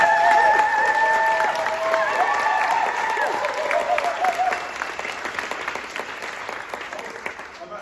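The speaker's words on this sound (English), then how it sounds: "Round of applause for these guys." Wedding guests burst into sustained applause that fills the room at close range, a dense wash of clapping that slowly thins and fades over several seconds, with a few voices calling out at the start.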